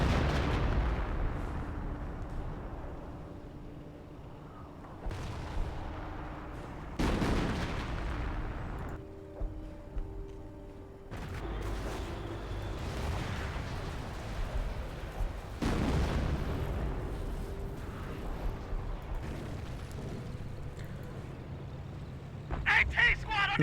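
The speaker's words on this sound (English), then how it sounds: "Looks like off-map howitzer shoot and on-map howitzer are now engaging Enemy the artillery unit piece" Howitzer artillery in the Company of Heroes strategy game booms in repeated, spaced heavy blasts, some loud and close, others dull and distant, under continuous commentary from a caster.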